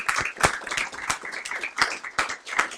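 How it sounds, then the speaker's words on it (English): An audience at a Science is Vital AGM claps, with distinct, fairly loud individual hand claps from a modest crowd forming an uneven, sustained round of clapping, with no talk over it. "Give us a clap."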